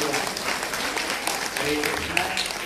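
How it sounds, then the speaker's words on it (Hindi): Enthusiastic applause from a crowd at a Srimad Bhagwatam katha gathering in a Delhi temple, dense steady clapping throughout with some talk mixed in. "इसलिए आप इनके लिए भी जोरदार ताली"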